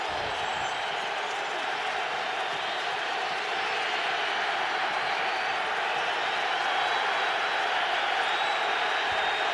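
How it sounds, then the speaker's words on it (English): A packed Raiders stadium crowd roars on its feet at the start of a 2005 game against the Cowboys, a continuous, broad, distant-sounding cheer that swells slightly toward the end. "Raider crowd in full throat on their feet to start this game"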